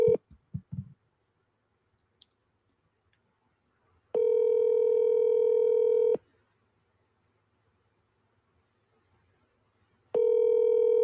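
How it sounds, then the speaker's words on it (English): Telephone ringback on an outgoing call to Dave: two long, steady electronic ring tones a few seconds apart, clear and alone, preceded by a few brief clicks. "Still ringing"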